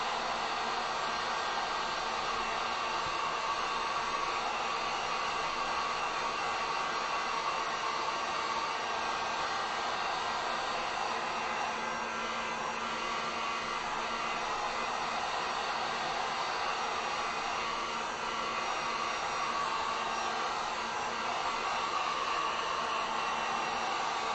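A heat gun runs continuously at close range, drying acrylic paint and glitter, a steady, even blowing hiss with a faint motor hum that holds unchanged for over twenty seconds with no talking.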